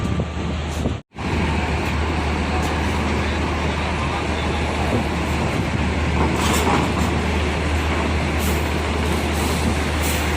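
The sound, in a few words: tourist bus driving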